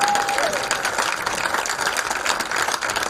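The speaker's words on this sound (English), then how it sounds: "let's give them a round of applause" Applause for seven senior athletes at a high school athletic awards ceremony, a steady wash of clapping from the audience filling the whole stretch, with a faint tone briefly heard at the start.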